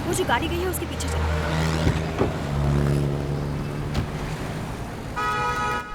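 Taxi car driving off and accelerating, its engine rising under talk and background street sounds, with a brief horn-like tone near the end.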